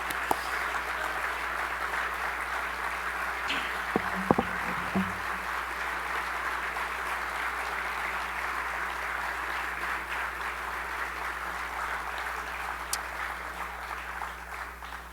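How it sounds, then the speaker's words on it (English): Continuous audience clapping at a college award dinner, a dense steady roar of hands with a brief cluster of sharper knocks partway through, lasting the whole stretch. "I think we can clap a little bit more,"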